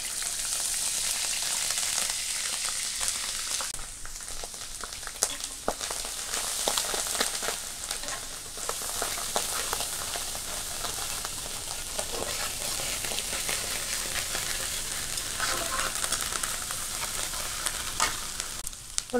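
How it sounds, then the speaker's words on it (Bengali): Onion paste frying in oil alongside hilsa fish, a loud dense crackling sizzle that runs unbroken throughout, rain-like and close, with occasional faint clicks of a utensil. "আর এর সাথে আরেকটু তেল দিয়ে দিলাম, পেঁয়াজ বাটা।"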